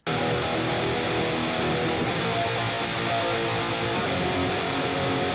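A wall of harsh, fuzzy atmospheric black metal electric guitar rings out continuously at an even level, thick and buzzy throughout, with no one speaking.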